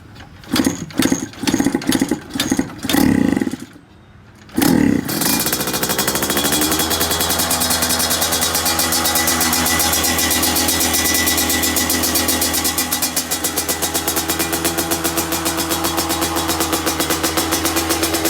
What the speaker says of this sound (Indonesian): Sekarang kita coba starter. Bukan starter, kick starter.